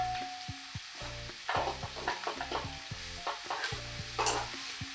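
Grated coconut stirred into chili masala frying in a pan for a country-style chicken dish, with a continuous sizzle and busy, rhythmic spatula scrapes and clinks up close.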